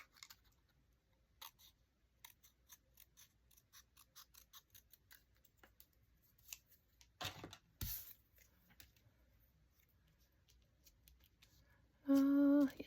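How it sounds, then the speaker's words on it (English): Scissors cut a word out of paper with small, close, crisp snips spaced irregularly, then a louder rustle and a brief tonal sound near the end. "I'm just going to cut this word out and we'll pop it on."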